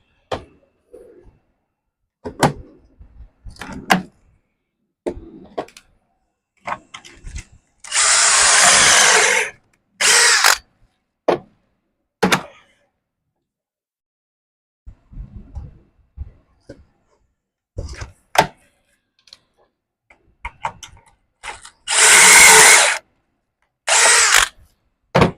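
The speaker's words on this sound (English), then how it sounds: "Okay, so I've got the pocket holes drilled." Bursts of a power drill whirring in short and longer runs, boring pocket holes in wood, mixed with clicks and clatter of handling, close up, with pauses between.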